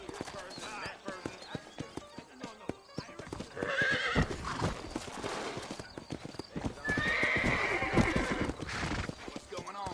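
Horse hooves clip-clop steadily at a slow walk leaving a frontier town in the Red Dead Redemption video game, with a horse's whinny and voices talking over the hoofbeats.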